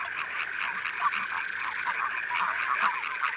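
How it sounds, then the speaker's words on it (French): Frogs, tree frogs or toads croak in a dense chorus of rapid, pulsing calls that repeat without pause, fairly close and with no voices. "Grenouilles, rainettes ou crapauds, chacun possède son répertoire et son instrument."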